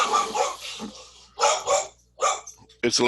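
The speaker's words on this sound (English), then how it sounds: "the dog's going crazy here" A dog barks repeatedly and loudly nearby in a house, in several harsh bursts with short gaps between them.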